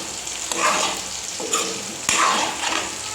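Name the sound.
fish frying in a pan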